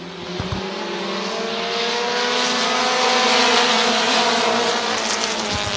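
Race cars roaring around Midvale Speedway, a loud sustained engine drone that builds and holds as cars pass close, with a sharp rattle near the start.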